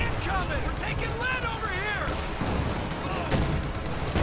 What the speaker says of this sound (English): I think that was zeroing artillery.